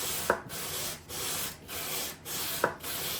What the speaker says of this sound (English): what I'm doing now is just jointing it a little bit, making sure she's nice and flat